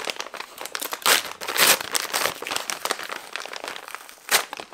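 Paper and plastic wrapping of a book parcel from Éditions Hugo being unwrapped, with continuous close crinkling and crumpling broken by several louder rustling bursts and a sharp crunch near the end.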